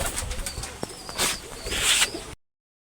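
Pigeons in a home aviary, a pair of Parvin and a pair of Kaldom, give soft low coos and brief calls, with rustling and small bird movements close by, all without speech.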